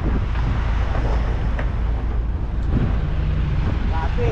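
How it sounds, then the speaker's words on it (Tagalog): Strong wind buffets the microphone by the sea near a boat, a loud continuous roar with surf and water beneath and scattered voices in the background. "Lakas ng hangin nga eh."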